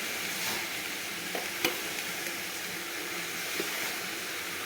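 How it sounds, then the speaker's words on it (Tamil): Tomatoes and tamarind sautéing in a pan for a tomato pickle give a steady soft sizzle, with a few light clicks of stirring scattered through, close by and with no talking. "தக்காளி சேர்ந்து நல்லா ஒன்றா வதக்கிப்போம்"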